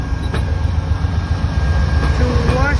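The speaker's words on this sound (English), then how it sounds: "Amtrak 55 Vermonter" Amtrak Vermonter passenger train passing at Greenfield station, Massachusetts, a loud, close, continuous rumble of cars rolling by with faint wheel squeal near the end.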